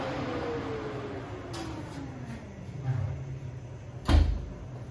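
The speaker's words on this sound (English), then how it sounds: "So I'm just going to get that out of the oven" An oven door opens in a home kitchen with a single dull thump and clatter, heard after a quiet stretch of low room noise.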